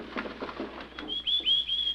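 Small birds chirp near a rose trellis outside an open window, giving a few clear, high whistled tweets after some soft rustling and muffled indoor sounds.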